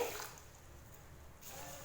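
Water pours steadily into a container of soaking ragi and fenugreek for dosa batter, a soft continuous splashing rush that eases off briefly before picking up again.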